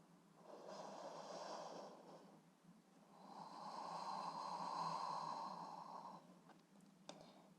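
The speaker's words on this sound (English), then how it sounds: "Let's take 3 breaths in our down-facing dog." Slow, audible breaths drawn in and let out during a yoga down-facing dog pose, two long soft airy waves, the second longer and fuller, with no talking.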